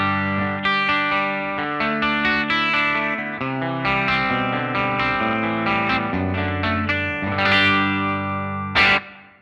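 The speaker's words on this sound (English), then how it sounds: "You should be able to hear that dynamic room reverb." Clean electric guitar through a Line 6 Helix amp model with dynamic room reverb, playing a steady run of sustained chords and notes that ring into a roomy tail, close and fairly loud with no talking.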